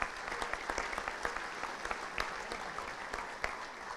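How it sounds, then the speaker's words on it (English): A small crowd at an electric cooperative's annual meeting claps in a brief round of applause, with scattered individual claps close by. "Let's give them all a round of applause."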